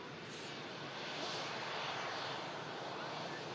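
A Scandinavian Airlines airliner arriving from Oslo, its continuous engine roar and rushing air holding steady at moderate loudness throughout, faint at a distance.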